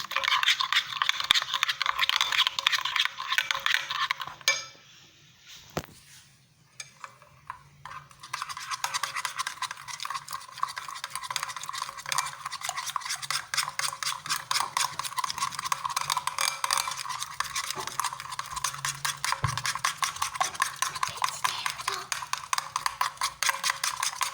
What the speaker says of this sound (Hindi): अब इसको मैं अच्छे तरीके से फेंट लूँगी, बहुत ही मिक्स करूँगी अच्छे तरीके से।